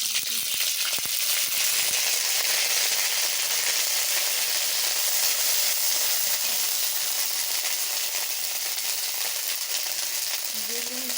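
Ginger paste sizzles and fries in hot ghee in a kadai, a loud, steady, close crackle that holds unbroken throughout with no voices over it.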